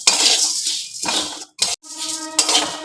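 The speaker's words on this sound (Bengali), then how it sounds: "আপনি শুকনো খোলায় নেড়ে নিলে মুড়ি আবার মজমজে হয়ে যায়" Puffed rice stirred in a dry, hot pan makes a brisk, dry rattling scrape against the metal. It comes in close, loud bursts with a couple of brief pauses.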